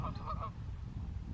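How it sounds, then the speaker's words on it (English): Canada geese in a distant soybean field give a few faint honks at the start, then fade into steady low wind rumble and open-air background noise. "Geese, Canada geese."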